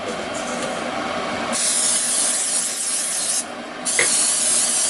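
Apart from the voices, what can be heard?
cooking spray sprayed from a new can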